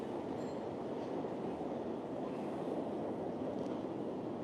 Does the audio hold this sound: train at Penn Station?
yes